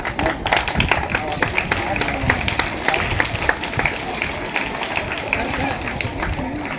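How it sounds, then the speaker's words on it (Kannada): Applause from a crowd at a school cluster-level sports meet, a dense steady patter of clapping continuing at an even level, with voices mixed in. "ಜೋರಾದ ಚಪ್ಪಾಳೆಯಲ್ಲಿ"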